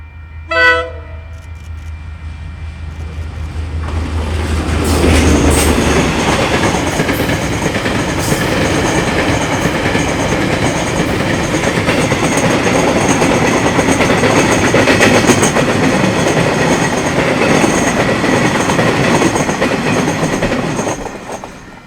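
A train horn sounds briefly at the start, then a long KiwiRail train rumbles past close by near Tauranga with steady clattering wheels and roaring noise that gradually fades.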